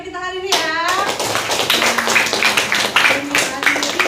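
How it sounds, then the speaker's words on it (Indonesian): A classroom of children claps hands in a loose, rhythmic pattern at the end of a lesson, close and lively, after a short spoken lead-in, with childish voices mixed in. "boleh kita tepuk tangan dengan pelajaran kita hari ini ya"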